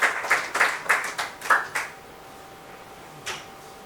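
Audience applause at an eighth anniversary celebration in Accra, Ghana: a short burst of clapping that fades within two seconds, followed by a lone faint clap later.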